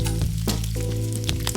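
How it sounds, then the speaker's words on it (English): Crumbled tempeh sizzling in a hot pan over medium-high heat, a loud, close crackling hiss with sharp spits and pops breaking through every so often. "We hear that sizzle, and so that's perfect"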